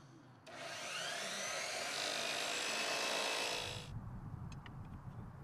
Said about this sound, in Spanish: Corte los barandales al largo medido simultáneamente para un ajuste más preciso.